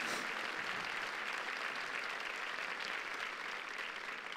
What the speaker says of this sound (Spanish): ¿Le podemos dar un aplauso aquí a nuestro Goliat?